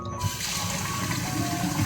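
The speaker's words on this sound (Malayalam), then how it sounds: "എന്നിട്ടിതാ പൈപ്പ് ഒന്ന് തുറന്നിട്ട് കൊടുക്കട്ടോ." Water running from a tap into a pressure cooker of cooked rice, a steady close splashing fill with no talk over it.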